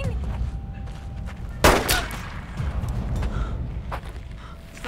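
A single loud gunshot cracks out in the middle of a tense action-movie scene, surrounded by rumbling background noise, scuffling movement and a faint ring.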